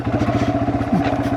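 A Yamaha TW200 motorcycle engine thumps with a steady low pulsing beat while riding over bouncy rocks, loud and close.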